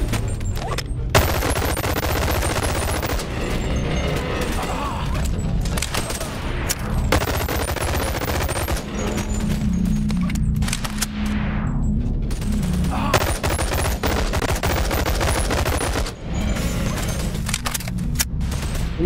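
Dense, loud gunfire from a VR shooter fills the scene, rapid bursts and sustained automatic fire rattling almost without pause, with brief gaps and excited voices shouting over it.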